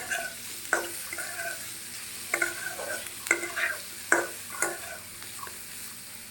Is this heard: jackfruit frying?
yes